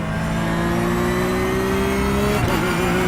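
A race car engine in the DCS video game, heard on a lap at the Red Bull Ring, drones loudly and steadily with a sustained high tone that dips briefly near the end, with no talk over it.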